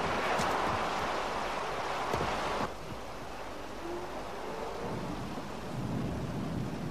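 Steady rain pours down during a thunderstorm, with a rumble of thunder early on fading into a constant wash of rainfall.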